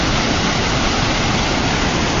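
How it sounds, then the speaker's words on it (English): A fast-flowing river rushing below a bridge near Newberry Crater, a loud, dense and unbroken roar of water with no pauses and no voices. "the very fast flow of the river"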